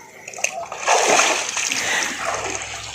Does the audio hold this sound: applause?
no